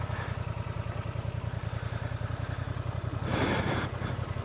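An off-road motorcycle engine idling with a fast, even throb, joined briefly near the end by a louder burst of revving or hiss.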